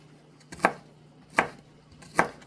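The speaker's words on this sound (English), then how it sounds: "I'm just gonna chop up a garlic, tiny pieces of garlic" Three sharp knife strikes on a cutting board as garlic is chopped into tiny pieces, spaced about three-quarters of a second apart over a low steady hum, no voices.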